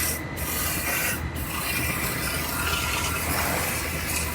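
3M cavity wax sprays through a 360-degree nozzle inside welded car body structure on a Toyota, a steady close hiss with brief pauses near the start.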